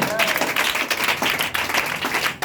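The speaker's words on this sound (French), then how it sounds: "Est-ce que tu peux l'acclamer encore?" A church congregation breaks into sustained applause and cheering, a dense wash of many hands clapping at once, with voices mixed into the crowd noise.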